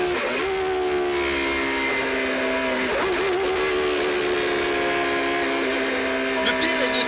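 Loud, close engine whine of a Peugeot 905 race car heard from inside the cockpit, a strained tonal howl that rises and falls with gear changes and throttle, steady and dominant.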